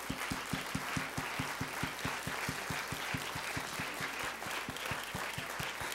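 A church congregation applauds steadily, the claps falling into a fast, even rhythm that holds loud and close for the whole stretch with no voices over it.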